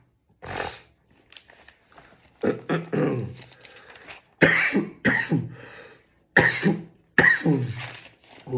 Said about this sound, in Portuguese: tossinha abençoada, né?